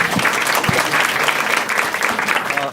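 A stand-up comedy audience claps steadily and loudly throughout, a dense crowd applause with a few scattered voices mixed in.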